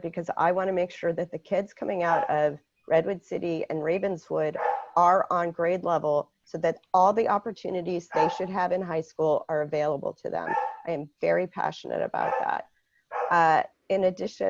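Near-continuous speech from a candidate at a school board forum holds the foreground while a dog barks intermittently behind it, its yips largely masked by the talking.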